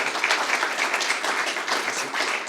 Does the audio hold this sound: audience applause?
yes